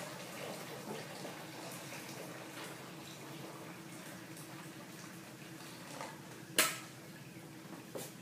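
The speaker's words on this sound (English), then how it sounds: "add a little bit of water from the tea kettle that's been heating on the back" Hot water from a tea kettle that had been heating on the stove is poured into a pot of cheese curds and whey, a steady, soft splashing rush with a sharp clank of metal near the end.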